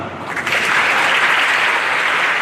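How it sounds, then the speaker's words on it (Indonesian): A congregation at a GMIT Koinonia youth worship service in Kupang breaks into dense, steady applause that fills the whole stretch at an even, close loudness. "Yang percaya tepuk tangan sekali."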